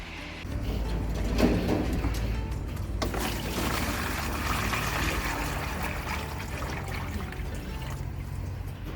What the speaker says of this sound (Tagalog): So yan, lagay na natin tubig.